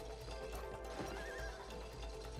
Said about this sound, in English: The next one's horse.